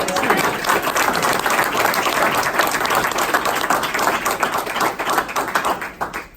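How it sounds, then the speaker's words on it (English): A room of attendees at a business training meeting gives a sustained round of applause, dense, loud clapping that holds steady for several seconds before tapering off near the end, with little talk. "give these guys a round of applause"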